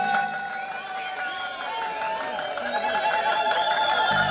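Guests applaud in a wedding hall at Rüyam Kır, Gölbaşı, Adıyaman, with steady clapping and crowd noise under loud tonal music, rising slightly toward the end.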